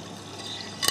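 A Miele W562 washing machine fills with water for the first rinse of a large woollens load, a steady rushing inflow with a brief splashing surge at the end.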